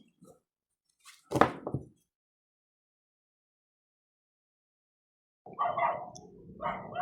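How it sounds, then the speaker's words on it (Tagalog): A couple of short dog barks, then after a long silence a dog barking and yapping again at moderate distance, with no talk. "biglang naging maingay mga aso sa labas"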